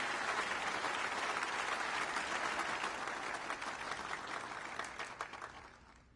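Sustained crowd applause in the snooker video game Snooker 19 at the start of a round, a dense, steady wash of clapping that holds for several seconds before slowly thinning out at the end.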